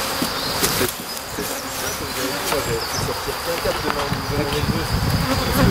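Black honeybees buzz steadily at their hive, a dense close insect drone running throughout, with voices talking over it now and then.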